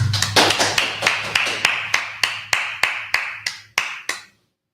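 Students in a Hebrew class clap together in a steady unison beat for a classmate, about fourteen evenly spaced claps that end abruptly and leave silence.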